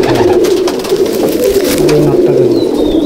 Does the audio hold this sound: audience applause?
no